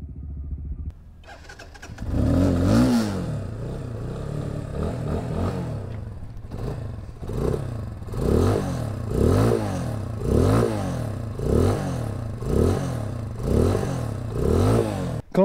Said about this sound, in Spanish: Vamos a darle cuerda para conocer el sonido de esta Vortex 250.